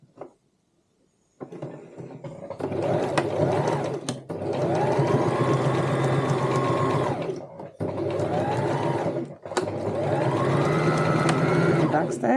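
A sewing machine stitches lining fabric for a cosmetic bag in several loud close bursts separated by short pauses for back stitches, with a quiet start before the motor kicks in.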